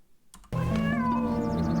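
A single cat meows once, clear and close, a drawn-out tonal cry after a brief faint tapping.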